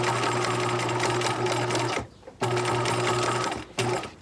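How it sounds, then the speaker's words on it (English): A sewing machine stitches down the side pleats of a pleated fabric face mask, whirring loudly and close in two steady runs separated by brief pauses. "we're just sewing down the pleats down the sides"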